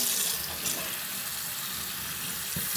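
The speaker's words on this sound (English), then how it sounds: "I rinse water in it. Put some water in it." Tap water runs steadily into a pot to rinse food in a home kitchen, a close, continuous hissing splash with no talking.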